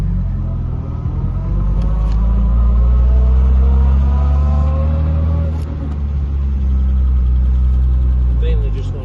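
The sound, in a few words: 1963 Jaguar XKE engine running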